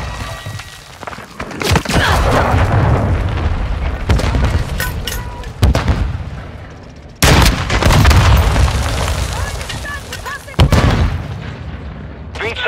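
Cruise missile explosions in Call of Duty Modern Warfare 2 multiplayer, several heavy booming blasts in sequence, loud and close, with rumbling tails between them and radio-style voice callouts over the battle.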